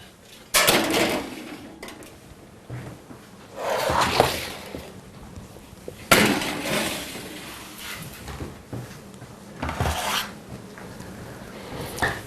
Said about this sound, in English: we're going to go ahead and load this to the oven and start our process here